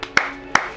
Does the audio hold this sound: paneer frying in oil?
no